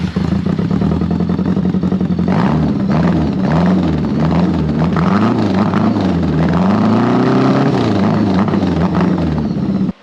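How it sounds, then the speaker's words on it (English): A 1975 Honda Goldwing motorcycle engine idles loud and close through throaty mufflers, a deep continuous rumble that rises and falls with small throttle blips. "This thing's loud. Like, these mufflers are pretty throaty."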